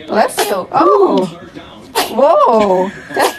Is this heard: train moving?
no